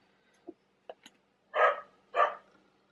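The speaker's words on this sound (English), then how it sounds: "excuse next door's dog" The next-door neighbour's new dog barks a few times in the distance, starting with small yips and then giving two fuller, louder barks about half a second apart.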